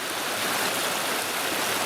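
A creek in thick bush near Anyox rushes steadily and loudly, a continuous close wash of flowing water with no pauses or voices.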